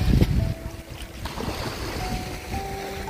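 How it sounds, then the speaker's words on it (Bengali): Ocean waves at Shankarpur beach roll and break in a steady broadband wash, with a louder surge at the start, wind buffeting the microphone throughout and no talk. "এক একটা ঢেউ মাঝে মাঝে জোরে এসে ধাক্কা মারছে এইগুলোতে"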